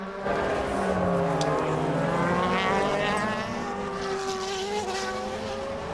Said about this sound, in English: Here he is coming in then in the Red Bull car.